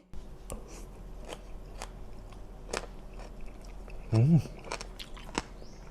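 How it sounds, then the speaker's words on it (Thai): Crisp crunching bites and chewing of pickled chicken feet, beef skin and rakchu break through quiet room tone, with scattered clicks and one louder burst of crunchy chewing partway through. "รักชูก็กรุบๆอร่อย"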